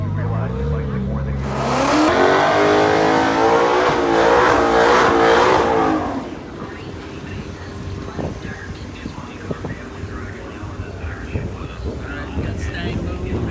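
Mustang and Dodge muscle cars at a track day, with one engine revving loudly and accelerating near the microphone for several seconds, then a steady roar under wind noise and faint talk.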